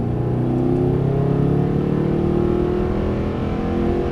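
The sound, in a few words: Mercedes-Benz SLS accelerating on a race track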